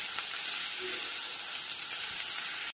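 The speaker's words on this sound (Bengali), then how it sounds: "এবার সমস্ত মশলাটাকে খুব ভালো মতো কষিয়ে নিতে হবে।" Masala with Kashmiri chilli powder and sugar sautés in a pan over low to medium flame, giving a soft, steady sizzling hiss with no talk.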